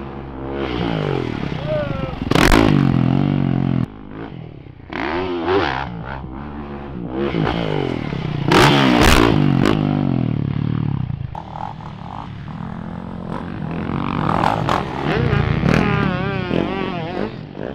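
Dirt bikes revving and riding on a hillside motocross track, engine whines rising and falling with gear shifts and passes, loud and close, with people talking over the noise at times.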